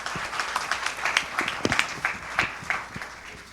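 Audience members at an academic panel give a thin, scattered round of applause, individual claps distinct and uneven, fairly quiet and short.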